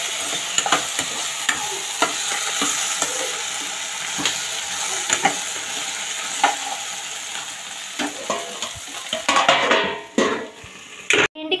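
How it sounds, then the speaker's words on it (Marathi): Okra frying in a pan, with a steady sizzle and repeated stirring scrapes and taps of a utensil against the pan, growing busier and louder near the end. "भेंडी फ्राय व्हायली आहे तिकडं."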